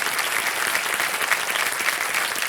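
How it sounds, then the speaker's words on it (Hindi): A studio audience on the TV quiz show Kaun Banega Crorepati claps loudly and continuously, a dense, even wash of applause from a large crowd. "तालियां बज जाएं सुधा मूर्ति जी के लिए"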